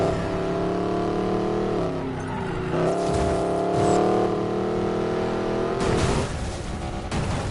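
A Koenigsegg Regera supercar in Need for Speed Payback on PS4 roars hard through city streets, its engine revving up and down loud and close, with short bursts of impact and rushing noise.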